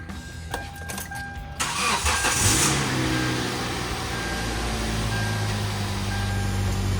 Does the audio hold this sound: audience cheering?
no